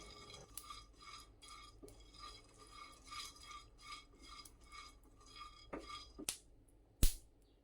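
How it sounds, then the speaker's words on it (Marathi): Seeds dry roasting in a pan, with a rhythmic scraping and stirring of a spoon against the metal, soft and close, ending in a couple of sharp clinks and no speech. "आता भाजूया हे सीड्स"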